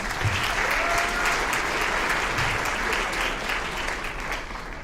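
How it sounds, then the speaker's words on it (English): Sustained applause from an audience at a writers' event honouring its presenters, steady and full across the whole stretch, with faint voices audible beneath the clapping. "Another round of applause for our presenters."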